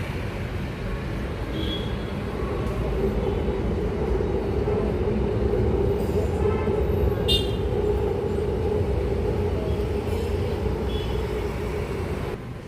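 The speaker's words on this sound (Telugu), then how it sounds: "ఇంకో ట్రైన్ కూడా వస్తుంది చూస్తారా" A train rumbles past with a steady low roar and rattling, continuous for several seconds, with faint clanks on top.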